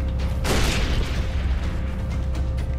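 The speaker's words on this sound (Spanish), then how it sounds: "voy a tirar una granada para allá para distraerle" A grenade goes off in the video game Far Cry 3, one heavy boom about half a second in that fades into a rumbling decay over steady low background noise, with no voices.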